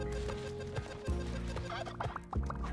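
Turkey gobbling in the video game Spelunky 2, a few bursty warbling gobbles repeating over steady game music and effects.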